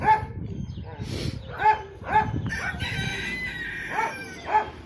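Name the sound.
rooster crowing, silkie chickens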